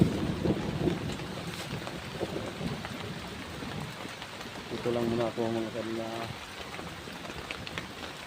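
Steady rain falls outdoors on a path, a broad wash of noise with some wind, while someone talks over it throughout and a brief tonal rhythmic sound rises midway.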